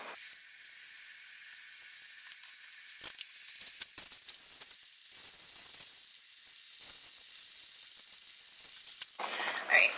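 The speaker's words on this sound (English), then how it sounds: "Put this on medium to low heat and bring it to a boil, making sure that we're stirring it often" Salsa ranchera comes to a boil in a pot on medium-low heat and is stirred often, giving a continuous hissing, bubbling sizzle with scattered soft stirring knocks and no talk.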